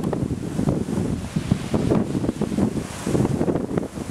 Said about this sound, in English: And it's also quite a windy day today.